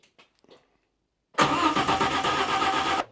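A turbocharged DeLorean engine cranks and catches, loud and close. A few faint clicks come first, then a sudden burst of dense, rough engine noise that holds steady for almost two seconds.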